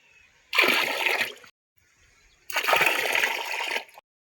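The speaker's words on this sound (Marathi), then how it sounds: "टाकीतला पाणी मी बालदीत काढून घेतोय" Water drawn from a tank into a bucket for watering jackfruit trees, heard as two loud close gushing bursts of about a second each, separated by a short quiet gap.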